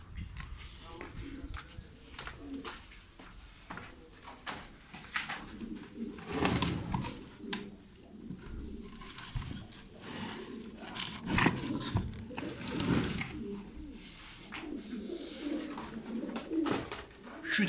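Racing pigeons in moulting condition coo repeatedly near a loft as they are fed wheat, soft rhythmic calls over scraping and fluttering, with a person speaking at times.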